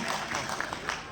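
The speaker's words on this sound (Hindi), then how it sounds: "एक बेर अहाँ सब अनुपम बहन ले एक बेर अहाँ सब ताली बजा दियौ" An audience applauds at an award ceremony in Patna: a brief, dense wash of many hands clapping close by, steady and fairly loud, with no voices standing out.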